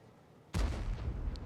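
A single tank cannon shot in World of Tanks, a sudden booming blast that rings out and rumbles on for a moment in a competitive match.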